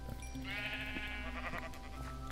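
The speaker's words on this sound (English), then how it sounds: "Killing sheep." In a Minecraft survival game, sheep give several bleats in quick succession as they are killed, each one clear and close over a steady low background hum.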